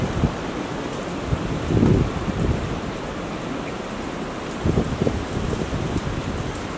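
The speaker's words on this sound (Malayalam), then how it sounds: "ഇന്നിവിടെ പുറത്ത് ഭയങ്കര കാറ്റും മഴ കേട്ടോ, ഭയങ്കര കാറ്റാ, നല്ല തണുപ്പുണ്ട്, നല്ല കാറ്റുണ്ട്, നല്ല മഴയുണ്ട്" Heavy wind and rain roar outside as a steady, dense wash of noise, with a few louder gusts rising and fading.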